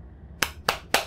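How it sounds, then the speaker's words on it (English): Three sharp hand claps ring out alone in a hot room, evenly spaced and close, with a faint hum beneath. "I need to properly clap so that this can work"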